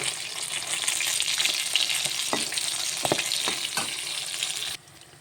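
Fish fry in a pan in a home kitchen with a steady close sizzle, broken by a few sharp clinks and scrapes of a utensil, then the sound cuts off abruptly near the end.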